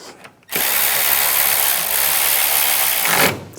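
A power tool tightens two bolts on the coolant reservoir during a valve cover replacement on a 2008-2013 BMW 328i xDrive, giving one loud, close, continuous whirring burst of about three seconds.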